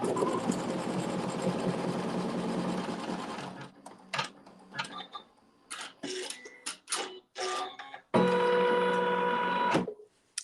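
A sewing machine runs a tack-down stitch on log cabin quilt fabric, a steady close whirring drone for several seconds, then short stop-start bursts with clicks, then another sustained run before it halts.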